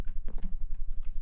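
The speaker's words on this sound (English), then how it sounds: "I swear I hear horses." Horse hooves clip-clop in a quick, even rhythm of hollow knocks, fairly loud and close over a brief moment with no talking.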